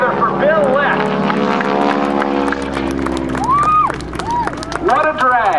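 A T-6 Texan propeller plane with 600 horsepower flies past at an airshow with its landing gear down, its engine a steady, humming drone while an announcer talks loudly over it.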